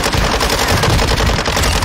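Rapid automatic gunfire in a military shooter video game, dense continuous bursts filling the whole moment, loud and close with no talk over it.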